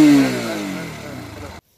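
A 2018 Bajaj Pulsar NS 160 motorcycle with an oil-cooled engine revs once up close, a throaty rather than thumping note that peaks and then falls away before cutting off abruptly.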